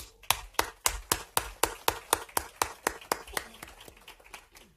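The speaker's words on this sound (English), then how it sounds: "So, round of applause for you, Susie." Applause for a military spouse volunteer at a change of responsibility ceremony, heard as a steady run of distinct, evenly spaced hand claps at moderate volume, fairly close and with no talking over it.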